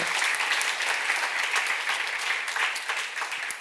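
Congregation in a church sanctuary breaking into sustained applause, a dense, steady wash of many hands clapping at once for several seconds, loud and close, with no talk over it.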